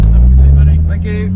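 Classic cars, a taxi among them, roll past at a UK car show with a loud, steady low engine rumble that eases slightly as they go by, close and continuous.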